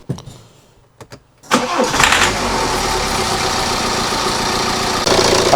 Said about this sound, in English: I'm just going to start the engine up now and then check for leaks.